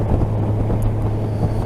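Rider's-seat wind and road noise on a 2019 Honda Gold Wing Tour DCT at highway speed, a steady loud rushing roar with a low droning hum underneath and only faint engine sound, no voices.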